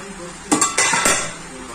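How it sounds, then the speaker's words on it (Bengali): A utensil stirs potatoes frying in a pan, making a few quick metallic clanks and scrapes close by over a faint background hiss. "আলু ভাজা নেড়ে দিয়ে একটু।"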